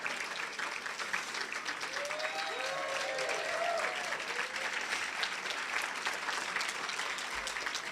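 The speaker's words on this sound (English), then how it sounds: "let's give them a big round of applause" A museum anniversary celebration crowd breaks into sustained applause, dense even clapping that holds steady throughout, with a few voices murmuring beneath it.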